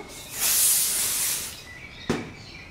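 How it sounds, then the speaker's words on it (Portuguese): Shine hairspray hisses onto hair during a half-up hairstyle in one steady burst lasting about a second, followed by quiet and a single sharp click. "spray de brilho"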